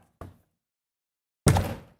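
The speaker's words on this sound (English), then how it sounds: "Close my door." A door shuts with a light tap followed a second later by a solid, close thud as it closes, with nothing else around it.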